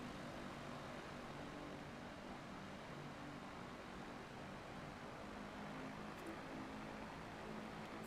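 Skyship 600 airship engines droning in Microsoft Flight Simulator 2024, a faint, steady, broadband hum with no change in rhythm throughout and no voices.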